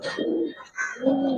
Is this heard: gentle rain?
no